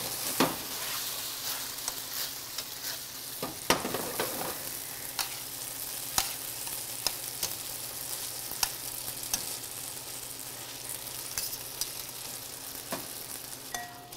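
Sauce heating to a boil in a pan, with a steady close sizzling bubble and occasional stirring scrapes and clicks running throughout, no voices.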